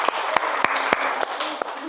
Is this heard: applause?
yes